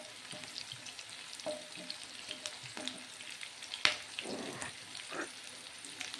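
Cloves and bay leaves fry in hot oil, a soft, fairly faint crackle with scattered pops and light stirring taps throughout.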